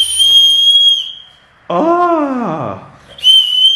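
A toy whistle fitted on a child's umbrella in a park gives steady high, piercing tones, one long blast, a pause, then another, while a voice calls out briefly between them.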